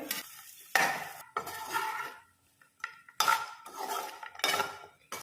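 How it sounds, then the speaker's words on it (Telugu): Fried mutton pieces and chopped coriander stems are tipped into a pan and stirred, with repeated scraping and clinking of a metal spoon against the pan over a low sizzle, close and wordless. "ముందుగా వేయించి పెట్టుకున్నటువంటి మటన్ పీసెస్ అన్నీ కూడా వేసుకోవాలి."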